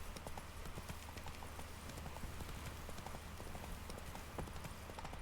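Roach the horse trots along with a steady, continuous clip-clop of hooves in The Witcher 3, the rhythm close and even across the whole stretch under ambient game sound.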